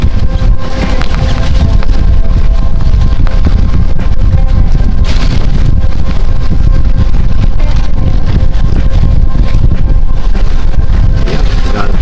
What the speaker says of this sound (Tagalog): malamig ang hangin dito sa Pacific